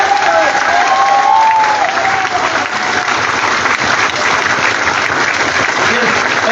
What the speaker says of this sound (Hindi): जोरदार जबरदस्त एकदम तालियां सही है